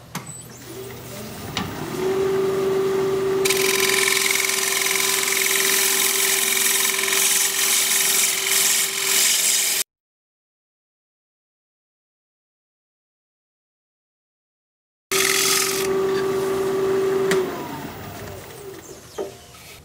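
A wood lathe spinning a hardwood bowl as a dulled turning tool cuts it: a steady motor hum with harsh scraping, a few seconds of complete silence, then the cut starts again before winding down.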